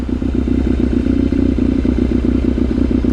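A Kawasaki KZ750 scrambler motorcycle engine idles steadily while warming up, a close, loud, even rumble with a rapid regular pulse and no voices.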